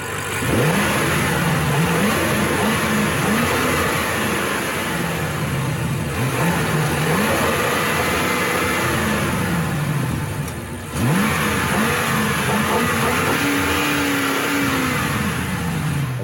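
A 2020 BMW M8 Gran Coupe's 4.4-liter twin-turbo V8 drives past, loud and continuous, with rising and falling revs, a brief lift around the middle, then another surge.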